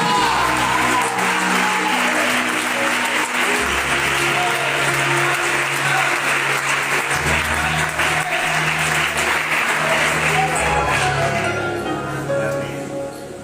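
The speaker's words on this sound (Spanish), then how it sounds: "Un aplauso para el Señor." Church congregation applauding together during a Spanish-language service, a loud, dense and steady wash of many hands clapping for about twelve seconds before tapering off, with musical tones sounding underneath.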